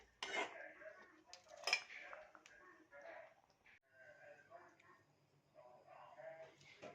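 Okra and meat being stirred together in a cooking pot, with utensil scrapes and clinks against the metal sounding close, intermittent and moderately loud, partly under a voice talking.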